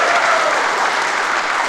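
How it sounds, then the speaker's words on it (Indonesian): Audience claps at a regional election debate, a dense, steady burst of crowd applause filling the hall for under two seconds. "kita berikan tepuk tangan yang meriah terlebih dahulu untuk subtema pertama"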